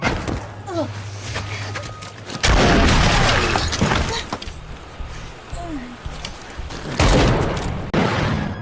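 Rapid bursts of gunfire crack and boom in exchanging volleys in a film shootout, with loud blasts rising over a noisy, chaotic background.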